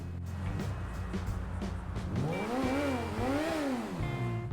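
A high-pitched F1 race car engine in GTA 5 Online revs up and down in sweeping waves over a steady motor drone, loud and continuous.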